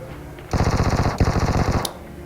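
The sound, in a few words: gunshots in a video game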